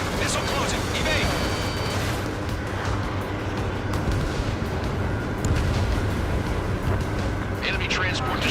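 Enemy transport aircraft blowing up in the Ace Combat 7 flight combat game: a dense, rumbling blast texture that carries steadily through the whole stretch, with game radio voices speaking over it.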